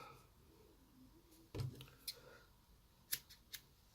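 Scissors trim material on a baitfish sparkler pike fly, making a few quiet, close snips spread across a few seconds over a faint background.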